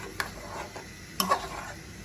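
A spoon stirs fish head muri ghonto, a Bengali rohu fish head and puffed rice dish, in a pot, and then a lid goes on, giving a few faint clinks and taps with a soft background hiss.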